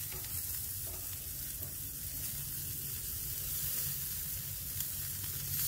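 Marinated chicken gizzards sizzle and fry steadily on a grill, a continuous close crackling hiss with no talk over it.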